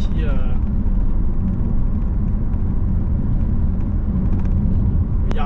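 A 2017 Volvo V60 D3 Momentum diesel car accelerates, heard as a loud, steady low engine rumble from inside the cabin, continuous for several seconds with a voice over it.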